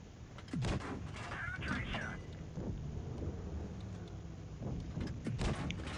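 Tank cannon shots in World of Tanks Blitz boom out as a few sharp, fairly quiet blasts with rumbling tails over a steady battle noise bed.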